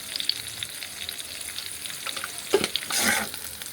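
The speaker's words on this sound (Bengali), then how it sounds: "ডিমটাকে একটু নুন দিয়ে আর গোলমরিচ গুঁড়ো দিয়ে ভেজে নেব।" Eggs seasoned with salt and black pepper fry in oil that earlier fried prawns, giving a soft steady sizzle, a couple of spatula scrapes, and a brief louder hiss surge near the end.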